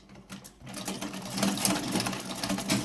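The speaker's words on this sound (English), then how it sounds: "Okay, so I'm just going to start stitching by half an inch." A sewing machine starts stitching a side pocket seam on fabric, a brief hesitant burst and then a steady rapid mechanical chatter close by, with no talking.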